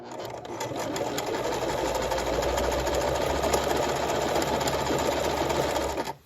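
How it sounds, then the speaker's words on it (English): A sewing machine with its presser foot lowered stitches the first half of a buttonhole, a loud, steady mechanical whirring hum that runs continuously and then stops abruptly. "I'm going to put the pressure foot down here, and then we're going to stitch this buttonhole, the first half of it,"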